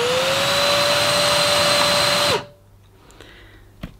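A Numatic Hetty Quick cordless vacuum cleaner runs with a loud, steady motor whine for about two seconds, then winds down quickly and cuts off, leaving near silence with a faint click or two.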